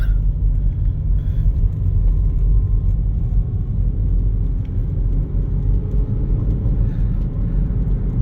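A car climbs a curvy mountain road with a steady, loud low rumble of engine and tires, continuous throughout with no talking.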